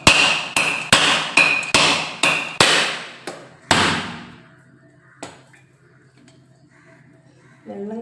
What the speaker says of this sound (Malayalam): ഇനി തേങ്ങ പൊട്ടിച്ച് അതിൻ്റെ വെള്ളം ആദ്യം കുടിക്കാം